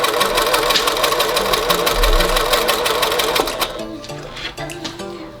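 Sewing machine gathering four layers of plain white tulle with tightened thread, a steady fast mechanical whir and rapid needle rattle running loud and close, then slowing into uneven bursts toward the end.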